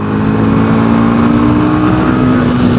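A Royal Enfield Himalayan 450 motorcycle engine, very loud and close, revving steadily higher in first gear at speed on a highway with a rising pitch and rushing wind.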